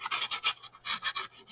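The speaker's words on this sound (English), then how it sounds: "I'm just kind of lightly sanding where the paper kind of frayed a little bit" Light sanding scrapes across the frayed paper edge of a paper-covered board in short back-and-forth strokes, a soft rasping rhythm of about eight passes, close and quiet with no talking.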